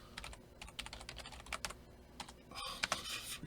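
Fingers type on a computer keyboard in quick, uneven bursts of close, crisp key clicks, with a denser flurry of keystrokes near the end and no voices.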